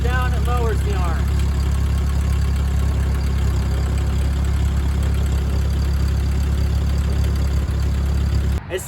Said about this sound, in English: See the power takeoff is spinning.